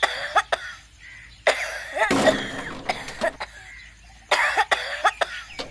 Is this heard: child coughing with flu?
yes